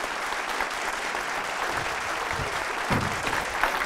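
Studio audience on a Georgian TV quiz show applauds a contestant, a steady dense wash of clapping throughout, fairly loud and even, with a slight swell near the end.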